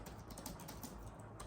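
Typing on the Samsung Galaxy Tab S10 Lite keyboard cover, a quick, steady run of light plastic key clicks heard up close with no talking.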